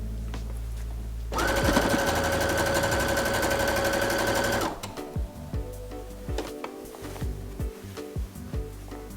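A sewing machine runs in one steady, loud burst of rapid stitching on an upcycled sweatshirt's collar and cuffs, then stops and gives way to quieter handling clicks and rustles.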